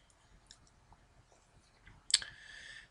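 A single sharp computer mouse click, close and crisp, follows a few faint soft taps in an otherwise quiet room.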